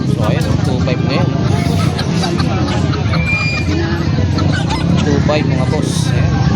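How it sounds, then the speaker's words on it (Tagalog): Chickens and a rooster at a pet market in Grotto, Bulacan, clucking and crowing amid a dense crowd babble, with people talking nearby and constant loud market noise throughout. "Ito klaseng manok."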